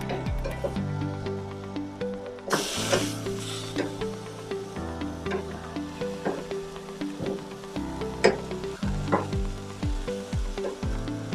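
Pork chops sizzle steadily on a Masterbuilt Gravity Series 560 charcoal grill, a continuous hiss broken by the clatter and sharp taps of tongs flipping the meat, without speech.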